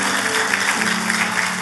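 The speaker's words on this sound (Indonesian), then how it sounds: "Boleh kita kasih tepuk tangan yang meriah buat Tuhan kita." A church congregation claps loudly and steadily, giving thanks to God, with a faint sustained musical tone beneath the dense applause.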